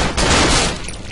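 Loud, dense burst of video game gunfire from the horror game Cry of Fear, a rapid volley of shots that packs the whole moment and then tails off slightly.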